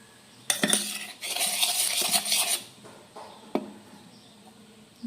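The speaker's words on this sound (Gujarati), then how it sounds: "ચમચાથી લોટ બાંધીએ" A spoon scrapes and stirs spiced flour into sev dough in a bowl, with a few sharp clinks against the side between bursts of gritty mixing.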